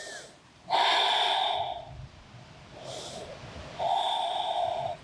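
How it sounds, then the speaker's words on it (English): Deep, slow breaths during a yoga session: two long, loud nasal inhales or exhales with a soft rushing, snort-like texture, separated by quieter breathing, close to the mic. "Breathing deeply right here."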